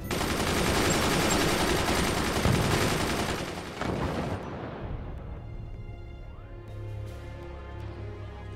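Machine gun fire in the Forts strategy game rattles as a dense, loud sustained barrage for about four seconds, then cuts off and leaves a faint lingering tail and quiet rumble.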